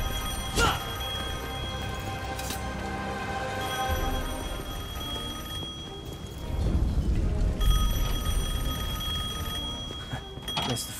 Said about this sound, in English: The phone still works.